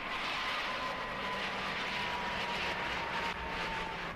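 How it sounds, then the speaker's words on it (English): An Airbus A320 passing low and slow over Habsheim airfield, a steady loud roar of jet engines holding throughout with broad rushing noise and a faint tonal whine. "As the A320 crossed the Absheim airfield, its speed dropped to only 112 knots."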